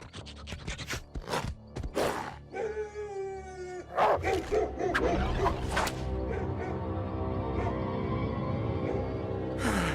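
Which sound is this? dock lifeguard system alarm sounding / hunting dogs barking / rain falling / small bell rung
hunting dogs barking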